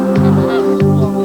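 Two loud, harmonic honks from geese, close by, each call dropping in pitch, with no voices.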